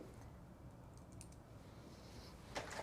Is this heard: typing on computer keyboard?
yes